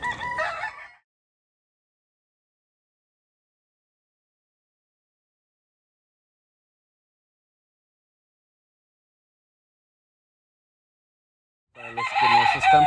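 Roosters at a gamecock breeding farm crow in two separate bursts, one at the very start and one near the end, fairly close, with long silence between.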